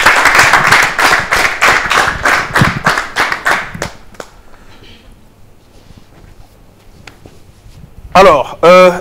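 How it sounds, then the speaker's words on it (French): At a Lyon concert show, a crowd claps in a fast, even rhythm for about four seconds, then fades to near silence before a loud voice breaks in over the hall. "Avec vos applaudissements"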